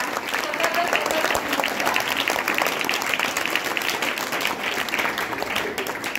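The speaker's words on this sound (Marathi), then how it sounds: "जोरदार टाळ्या" A room of schoolchildren and teachers claps loudly for students after a class arts-and-skills presentation, dense steady applause close by that holds without a break, with faint voices in the mix.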